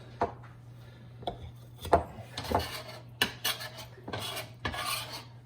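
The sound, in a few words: butter scraped off a cold cutting board into a bowl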